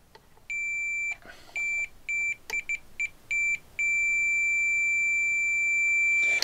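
A multimeter on continuity test beeps as its probes touch jumper wires in a guitar amplifier build: a steady high-pitched tone in several short bursts, some very quick, then one long sustained beep, loud and clear with no talking.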